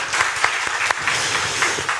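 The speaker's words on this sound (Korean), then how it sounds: "우리 박수하겠습니다." A church congregation claps together during a worship service, a moderately loud, steady patter of many hands with a few sharper individual claps standing out, and faint voices mixed underneath.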